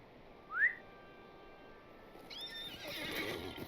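A single sharp whinny from a horse in the game Lord of the Rings Online rings out early, followed by a busier stretch of brighter game-like tones and soft rustling, with no one talking.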